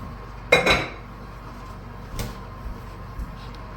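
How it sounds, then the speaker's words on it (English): A dish of scalloped potatoes goes into a home oven with a sharp clatter of cookware against the rack, followed by a softer knock and a few faint taps in an otherwise quiet kitchen. "let me get this last one in the oven"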